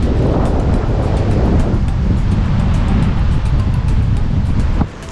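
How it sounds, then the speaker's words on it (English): Easterly wind buffets the microphone over steady, loud ocean surf with about a 3 meter swell at a beach campsite, roaring continuously before dropping off sharply near the end. "Easterly wind."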